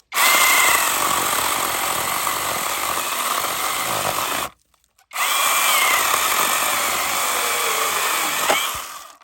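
A FLINKE cordless mini chainsaw cuts through a thicker branch with its chain oiling running, a loud, steady, close motor whine that stops briefly and then starts again for a second long cut.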